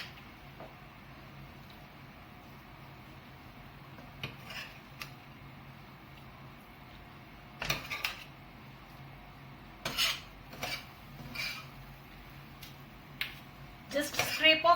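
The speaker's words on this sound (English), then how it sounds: "Just scrape off all the masala which is there on the tawa with a big serving spoon." A big serving spoon scrapes masala off a hot tawa pan after tawa-fried chicken is cooked, giving intermittent metallic scrapes and clinks, close and moderately loud, with stretches of quiet between them.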